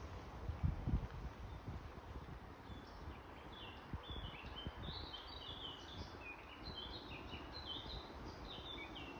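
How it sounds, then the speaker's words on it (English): Faint high bird chirps scattered through steady outdoor background noise in Drogheda, Ireland, with a brief louder thump near the start. "I'm not sure if you can hear the birds, but they're absolutely beautiful."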